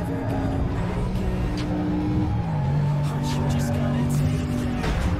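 Racing car engine in Need for Speed Most Wanted, a steady droning motor whose pitch holds then drops and climbs again through a gear change, heard up close under someone talking.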